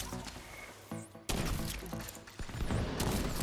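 Gunfire in The Division 2 during a Kenly College enemy wave, with shots aimed down at attackers below, loud dense bursts and booming impacts filling the whole stretch after a brief quieter opening.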